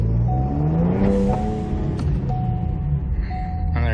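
Ford Explorer ST launching from a standstill with launch control, its engine held near the limiter and then pulling away, a steady close engine drone with shifting tonal whine throughout, with no talk.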